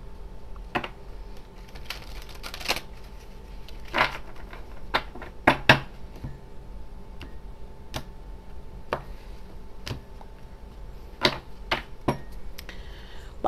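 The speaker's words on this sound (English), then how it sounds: "Couple more shuffles" Tarot cards being shuffled up close: repeated crisp riffles and soft taps in an uneven rhythm, with no talking.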